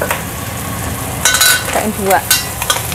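Chili and spices sautéing in a pan: a steady sizzle, with a few clinks of a utensil against the pan. Someone speaks briefly over it.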